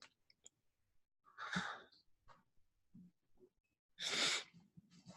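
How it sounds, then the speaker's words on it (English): Two sharp sneezes burst out in a quiet room, the second louder, separated by soft breaths and small mouth sounds. "I have to sneeze."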